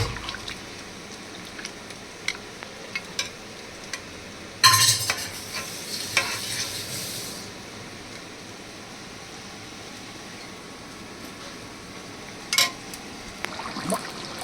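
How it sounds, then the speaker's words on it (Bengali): Mutton pieces are stirred and fried in spice masala in a pot, with quiet scraping and soft sizzling, a louder burst of stirring and clatter, then low simmering with occasional spoon knocks. "এবারে মশলার মধ্যে দিয়ে কষা কষা করি।"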